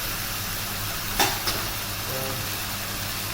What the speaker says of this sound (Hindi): चिकन को हमने थोड़ा सा भूनना है उसके साथ।